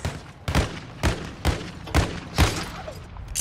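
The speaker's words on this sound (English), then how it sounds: "Oh, who's shooting at me, boy?" Call of Duty gunfire: about six loud, evenly spaced shots with deep thumping low ends, close and punchy against a busy game background.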